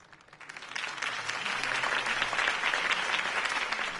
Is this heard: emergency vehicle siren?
no